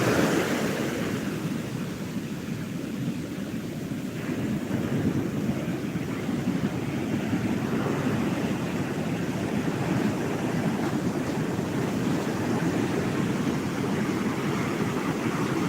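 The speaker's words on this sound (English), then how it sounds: "Listen to the waves for a minute." Gulf coast ocean waves wash in steadily beside a covered palapa-roofed outdoor area, a loud continuous roar of surf with wind buffeting the microphone and no voices.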